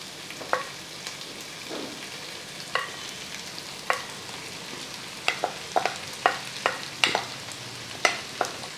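Chopped cabbage sautéing in a pan, a low continuous sizzle broken by irregular sharp spatula clacks and scrapes that come quicker toward the end.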